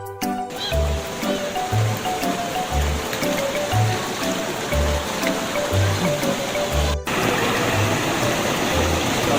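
The Sungai Cigeruk river at Gunung Puntang flows in a steady, broad rushing wash close by, with faint thumps and a brief break partway through.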